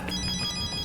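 A telephone ringtone in a Torchwood episode, a brief bright electronic trill repeating in quick pulses, heard alone at moderate volume.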